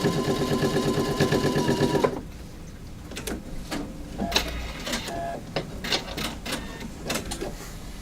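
An embroidery sewing machine stitches a placement line for appliqué fabric, a loud buzzing, whirring run for about two seconds, then stops, followed by quieter clicks and handling noises.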